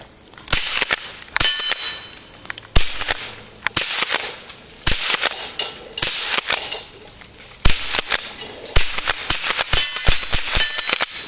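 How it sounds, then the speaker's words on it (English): Rossi Model 62 pump-action .22 LR rifle fired at angled steel targets outdoors, a string of about a dozen sharp shots, each followed by a metallic ring from the steel, loud and close in an irregular rhythm. "Now, shooting steel, these things are at an angle, so the ricochets are not going to come back at you."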